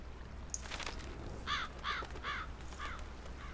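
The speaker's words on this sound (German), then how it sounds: "The crows are attacking the farm" Crows cawing in the hidden-object game Drawn: The Painted Tower, a series of four rhythmic caws over a low background hum, with no talking.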